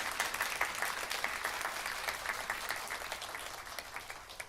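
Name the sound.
congregation applauding in welcome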